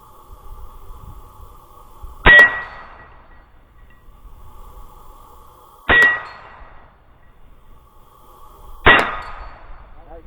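Three sharp metallic clangs from Ruger PC Carbine rounds striking a fixed steel plate, each a loud ringing impact a few seconds apart with a brief decaying ring, over a low steady background hum.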